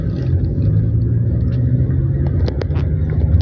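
A bus rolls past on a road near a residential development in Davao, a steady low engine rumble and tyre noise that holds throughout at close range.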